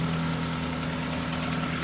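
A Honda Accord engine idles steadily after a cold start, a low, even hum with faint ticking, heard alone and close.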